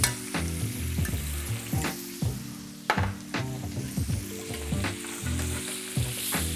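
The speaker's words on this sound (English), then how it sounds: "And now we got to get really going with the basting over here" Steak bastes in sizzling brown butter with garlic cloves, with loud continuous frying and spattering broken by repeated scraping and clinking of a spoon against the pan as fat is ladled over the meat.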